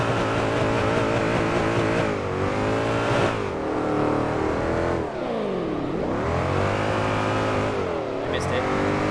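A boosted V8 350 engine in the DRIFT21 driving game revs hard and steadily, its pitch climbing, dipping sharply and rising again across the clip, loud and close throughout.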